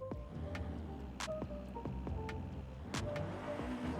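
Cabin view of a Mitsubishi Galant VR-4 in Forza Horizon 5: a steady low engine drone fills the interior, with a few faint ticks and clicks scattered across it and no talking.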